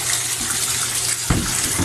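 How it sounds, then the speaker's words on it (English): Hot water runs steadily from a bathroom tap, a continuous close gush of water with a brief louder splash near the end, no talking. "I bring it in my bathroom, turn on my hot water."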